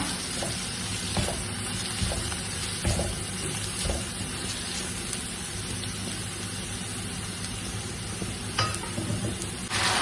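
Boiled salted water added to a hot pan for Kerala-style upma, hissing and sizzling steadily up close with stirring scrapes and a few clinks throughout.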